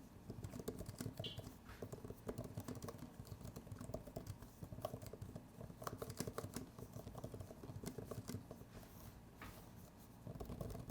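Continuous quick typing on an iPad keyboard with scissor switches, a dense patter of soft, close key clicks with a few brief pauses.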